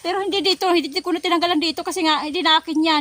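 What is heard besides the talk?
No distinct noise like a dog, phone or traffic.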